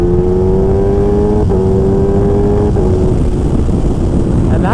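A Kawasaki Ninja H2 motorcycle accelerates hard, its loud engine note climbing steadily with two quick-shifter gear changes marked by brief clean cuts in the whine, heard up close from the rider's position with constant wind roar.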